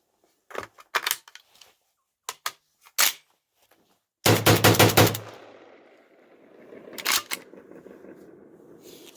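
A Kalashnikov Komrad 12 shotgun fed light loads fires a quick string of close, sharp shots in a rapid magazine dump, with echoing reverberation trailing off after the last blasts, preceded by scattered metallic clicks and handling noises.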